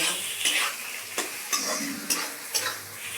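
Onion, ginger and garlic are frying lightly in a pan for a chicken dish, giving a soft continuous sizzle broken by several sharp scraping stirs of a spoon against the pan.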